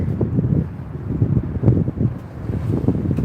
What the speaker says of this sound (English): Here comes a big wave.